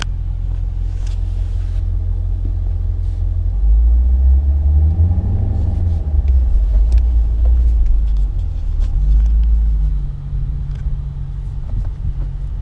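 Engine of a manual-transmission car being driven in reverse, a low steady rumble that swells as gas is added and eases with the clutch, close and continuous with no talking.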